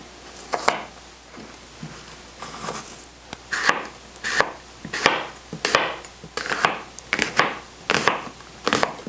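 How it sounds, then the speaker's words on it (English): An unpeeled apple being chopped on a cutting board for rhubarb apple muffins, a series of roughly a dozen sharp, close knife strikes in an uneven rhythm with no talking. "You can chop the apple to whatever size you would like."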